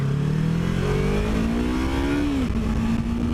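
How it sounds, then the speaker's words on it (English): A Yamaha R3 motorcycle engine revs up as the throttle rolls on, its pitch climbing steadily, then easing back to a steady drone, loud and close with no talk. "Go ahead and roll on the throttle there."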